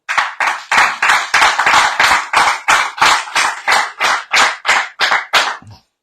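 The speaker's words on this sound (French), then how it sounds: "on les applaudit." Rhythmic clapping on a French radio show set in a bistro: about fifteen evenly spaced, crisp claps from close by, fairly loud and heard alone, ending with a faint final sound.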